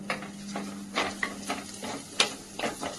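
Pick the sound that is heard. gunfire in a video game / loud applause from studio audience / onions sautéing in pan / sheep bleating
onions sautéing in pan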